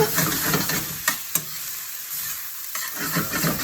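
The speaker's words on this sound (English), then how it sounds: "I'm just going to gently stir fry this through." Jasmine rice being stir fried in a hot pan, with a steady sizzle and the scrape and toss of stirring, plus a couple of sharp clatters, close and loud with no talking.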